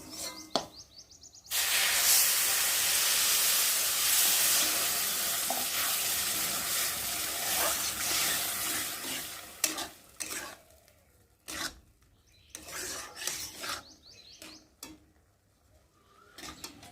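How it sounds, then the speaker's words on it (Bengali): Water hits spicy semolina frying in a hot pan, bursting into a loud close sizzle that holds for several seconds, followed by intermittent scraping and stirring strokes. "তো চলো আমি এখন এর মধ্যে জল দিয়ে দেবো।"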